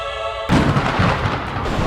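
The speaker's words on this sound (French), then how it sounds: "On est chassé par les orages." A heavy thunderclap breaks out at sea during the Solitaire du Figaro sailing race, a sudden loud rumbling boom that hits after a brief quiet moment and keeps rolling close and strong to the end.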